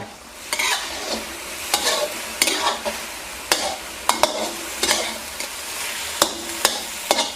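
Garlic pork stir-fried with a little dark sweet soy sauce sizzles steadily in a pan, while a spatula scrapes and clacks against the metal in repeated sharp strokes throughout.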